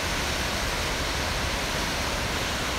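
Broadband rushing water of the upper Kern River at the Seven Teacups waterfalls in the Sierra Nevada canyon, a steady, dense roar filling the whole clip with no pauses and no voices.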